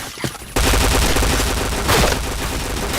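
Gunfire in the video game Point Blank: after a quiet start, a dense burst of rapid automatic shots fires loudly and without a break to the end.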